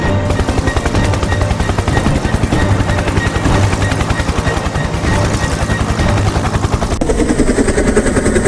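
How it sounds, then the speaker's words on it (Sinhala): Film sound effect of a helicopter in flight during an action scene: a loud, close, rapid rotor chop pulsing steadily throughout, thick and continuous with no voices. "එක හෙලිකොප්ටරයක් දෙන්න පුළුවන්"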